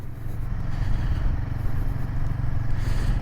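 A Royal Enfield Himalayan 450 motorcycle on the move, a steady low engine rumble mixed with road and wind noise, loud and continuous throughout.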